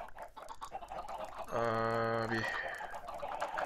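A Minecraft chicken gives a short, clear, tonal cluck in the middle of a stretch of talk. Speech comes before and after it.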